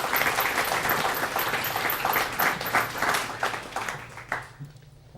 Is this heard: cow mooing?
no